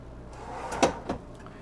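A built-in wooden pantry drawer in a 2012 Newmar Essex 4544 motorhome slides and thumps shut nearby, a soft bump followed by a second lighter knock in a quiet room.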